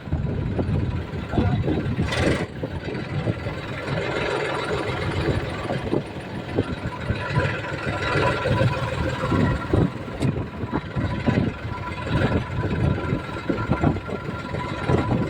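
A tractor engine idles close by with a steady, dense rumble and some irregular clatter running throughout, with no one talking over it.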